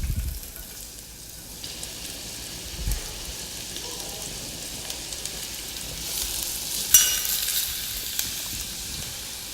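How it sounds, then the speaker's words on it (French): Turnip pieces browning in a cocotte give off a soft, continuous sizzle with a few faint stirring scrapes, heard alone at close range. "faire colorer légèrement nos morceaux de navet dans la cocotte"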